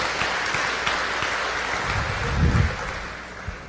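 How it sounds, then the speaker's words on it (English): Graduation audience applauding, a steady wash of clapping from many hands that swells briefly near the end before settling, no voices over it. "one last round of applause for Becky and Trey and RJ."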